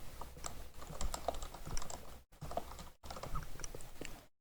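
Keys clatter in quick irregular bursts on a computer keyboard while text is entered in a word processor, with two brief pauses; close and moderately loud, with no talking.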